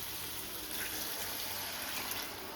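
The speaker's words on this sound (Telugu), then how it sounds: "ఇప్పుడు మనం గ్రేవీ కోసం దీంట్లో నీళ్ళు పోసుకుందాం" Water pours in a steady, even rush into a pot of cooking country chicken curry to make the gravy. The flow continues without a break for the whole stretch.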